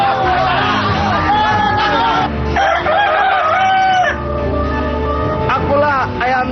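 A rooster crows repeatedly in a village setting before a cockfight, loud and close over a murmuring crowd, with people talking throughout.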